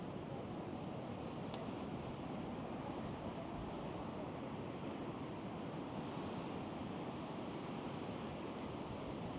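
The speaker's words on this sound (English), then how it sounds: "Let's go and have another look at those waves." Choppy sea surf at Gorleston on Sea on a windy October day rushes in a dense, continuous roar of breaking waves mixed with wind buffeting the microphone.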